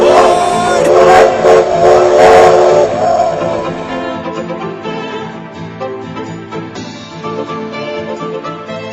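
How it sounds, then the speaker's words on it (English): A steam train whistle at the Oklahoma Railway Museum sounds in loud, sustained tonal blasts, then lingers more faintly behind music. "hear the whistle of the train as it echoes through the hills once again"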